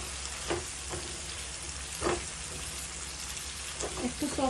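Chopped tomatoes sizzling in a pan for an Indian vegetable and egg curry, a steady quiet fry hiss with a few louder stirring scrapes and spatters, close up.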